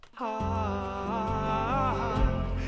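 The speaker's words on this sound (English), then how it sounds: "So all together, that chorus sounds like this." Indie song chorus with live strings swelling beneath a sustained melodic line and low bass, moderately quiet and steady, rising slightly near the end, no talking.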